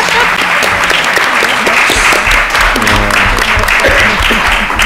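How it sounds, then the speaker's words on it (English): An audience applauds candidates at a forum hosted by the League of Women Voters, with steady, dense clapping from a sizable crowd filling the full clip at close range. "We have another round of applause for these candidates."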